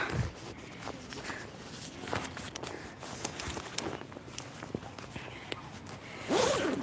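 A jacket being unzipped to take it off, with a long, close, rasping zipper run heard alone, with faint rustling and a brief fuller swish near the end.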